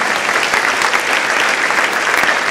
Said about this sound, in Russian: А вы можете им аплодировать,